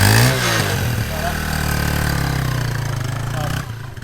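A farm motorbike with no muffler bolted on runs loud and close, its raw exhaust rumbling at a steady idle with a brief blip of revs at the start before settling, then cutting out near the end.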